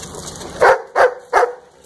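Indoor dog barking: three sharp barks in a row, close and fairly loud, each about a tenth of a second long, with a quiet room between them.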